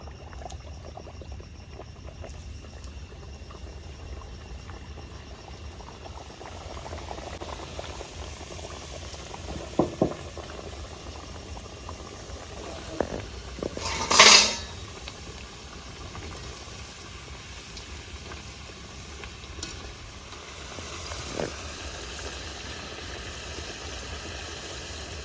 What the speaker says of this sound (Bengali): এবার আমি পাপড়িগুলোকে ভেজে নেবো।